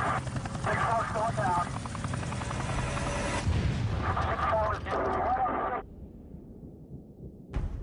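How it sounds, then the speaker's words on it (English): A Black Hawk military helicopter under fire gives a loud, dense roar of rotor and blast noise with heavy rumbling bursts, which drops abruptly near the end before one last burst. "A second helicopter, Black Hawk Super 6-4, piloted by Mike Durant,"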